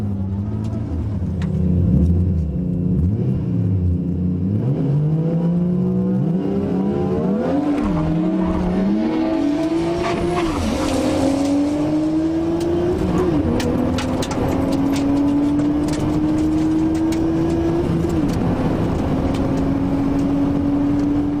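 HPI R34 Skyline on Nitto tyres accelerating hard, its engine note climbing steadily through the gears over about twenty seconds, loud and continuous with a rumbling low end.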